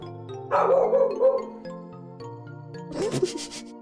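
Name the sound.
dog barking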